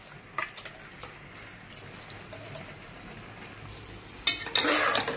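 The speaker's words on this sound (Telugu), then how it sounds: "పోపు బాగా వేగాలి." Spices and cashews crackle as a tempering fries in oil for Sri Vaishnava pulihora. Faint sizzling and a few stirring knocks build to a loud, bright burst of frying near the end.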